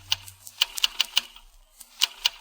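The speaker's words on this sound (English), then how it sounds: "is in his private office typing a report." A typewriter in a private office typing a report in a radio drama: sharp, irregular keystroke clacks, about a dozen in quick uneven bursts, close and clear.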